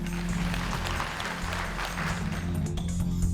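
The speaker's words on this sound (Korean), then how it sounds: "큰 박수 보내주십시오" An audience at a regional small-business pitch competition gives a steady wash of applause that carries on throughout, with a low music bed beneath it.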